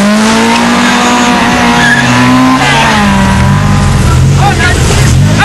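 Four-wheel-drive car racing a BMW on a road, engines roaring loud and close with rising and falling revs and tire squeal, while a commentator talks over the noise.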